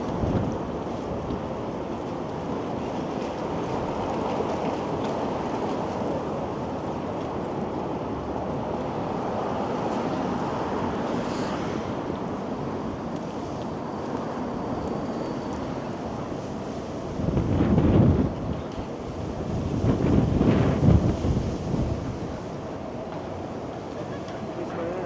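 Strong gusting wind on a city street in midtown Toronto, a steady broad roar buffeting the microphone throughout, with two louder rumbling gusts swelling near the end.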